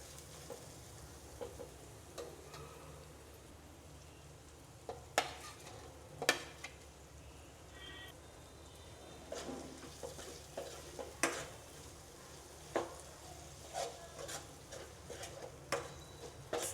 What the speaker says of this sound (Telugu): ఈ అల్లం వెల్లుల్లిపాయ పేస్ట్ని పచ్చివాసన పోయేంత వరకు ఫ్రై చేసుకోండి.